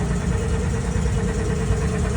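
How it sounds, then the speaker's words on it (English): A cold engine on a lever-operated machine idles just after startup, a steady, loud, dense drone with a constant low rumble and no voices. "We're going to let it idle a little bit there because we're starting a cold engine."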